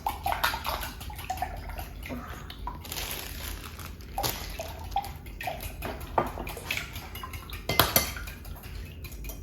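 Eggs being whisked in a bowl for homemade cake pops, with rapid clinking and scraping of a whisk against the bowl, irregular and close, mixed with other kitchen clatter and light watery sounds.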